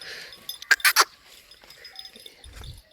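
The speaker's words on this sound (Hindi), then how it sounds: "नाल दा निक्का ही बकरा खा रहा है वेखो।" A small young goat feeds on a farm, giving a few short, close bleats and rustling, with a clink and a low thump near the end.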